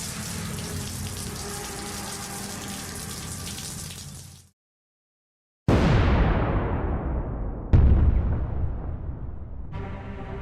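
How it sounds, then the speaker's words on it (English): A large meteorite slams down with an explosion-like impact: a steady roar cuts to sudden silence, then a massive crash bursts in and decays, followed by a second heavy hit and a further rumble, loud and close. "A large meteorite fell from above, so suddenly that even my sensors momentarily shut down."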